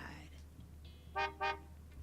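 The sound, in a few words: car horn honking in a video game, Cupid Parasite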